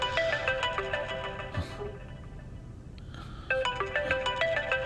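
A mobile phone ringtone plays in a dubbed TV drama scene, a loud, steady melodic ring that pauses briefly in the middle and then resumes, with no talking over it.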